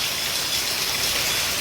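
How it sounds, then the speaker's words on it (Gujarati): Steady rain in a Gujarati village after many dry days, a dense even hiss of falling drops with water running off roofs, continuous and fairly close with no voices. "તો ફ્રેન્ડ જો આવો કંઈક વરસાદ વરસી રહ્યો છે અત્યારે અમારે"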